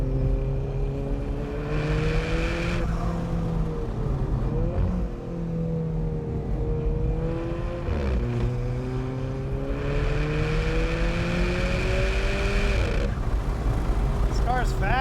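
An Alfa Romeo 4C on a warm-up lap around a race track, its engine revving up and down through gear changes in long rising pulls, loud and close throughout, with a voice talking over it.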